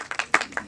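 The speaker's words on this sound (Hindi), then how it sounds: "प्लीज जोरदार ताली से स्वागत कीजिए इन सबका" Audience applause welcoming a film cast onto the stage at a Hindi feature film trailer launch, heard as several bursts of clapping in an uneven rhythm, fairly close and moderately loud.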